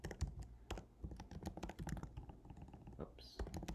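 Typing on a computer keyboard while coding, heard up close as irregular bursts of quick clattering keystrokes with short pauses, continuing for the whole stretch.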